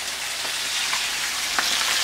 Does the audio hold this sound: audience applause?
no